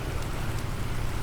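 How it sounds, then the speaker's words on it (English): Steady rainfall in the Planet Crafter video game, a dense, even hiss of falling drops with a low rumble underneath, continuous and moderately quiet throughout a brief stretch. "Yeah, it's raining, and the particle effects leak through the building."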